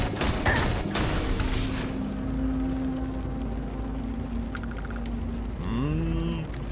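A new gun fires in Starfield Shattered Space: dense, loud rapid bursts in the opening two seconds, then a low droning hum and a few tonal blips.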